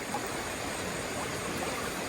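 Steady broadband rush of flowing water, continuous and fairly loud, like a river running close by at a campsite in Baling, Kedah, with no other sounds standing out.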